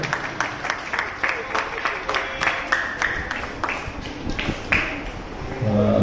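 An audience at a children's day celebration claps for the children, giving a run of rhythmic clapping bursts at moderate distance before it trails off.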